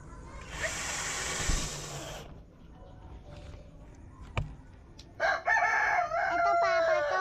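A rooster crows loudly nearby, a long drawn-out call, followed by another crow after a short pause, with faint background noise and a voice.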